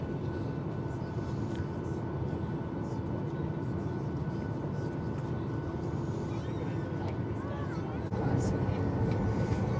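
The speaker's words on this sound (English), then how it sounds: "It would appear that we are finally getting on our way to the runway" Steady broadband rumble of a Virgin Australia Boeing 737-800 taxiing toward the runway, heard from inside the cabin as a continuous engine drone that swells slightly near the end, with quiet speech faintly underneath.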